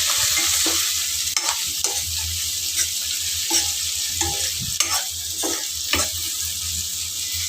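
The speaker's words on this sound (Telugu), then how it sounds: "ఆనియన్స్ కొంచెం వేగిన తర్వాత దీనిలోకి ఒక గుప్పుడు దాకా జీడిపప్పులు కూడా వేసుకుని ఒక రెండు నిమిషాలు వేయించుకోవాలి" Oil sizzles steadily in a pan as onions and cashews fry while a utensil scrapes and stirs in repeated strokes, the frying hiss continuous underneath.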